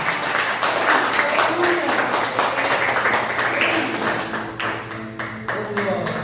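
Church congregation applauding in a sustained burst of clapping, with voices and tonal sounds mixed underneath.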